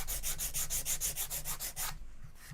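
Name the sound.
sanding a guitar fretboard extension with sandpaper on a flat block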